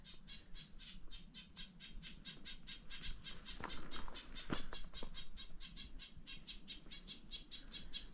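A bird calls in rapid repeated chirps throughout, steady and fairly distant, with faint rustling in the background, in a mountain forest along the Appalachian Trail.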